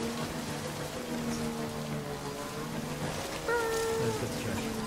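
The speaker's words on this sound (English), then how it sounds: "There's also a priority to get out of the rain as fast." Rain falls in the Death Stranding video game as a steady hiss, with tonal game sounds and low hum layered over it and a brief louder patch near the end.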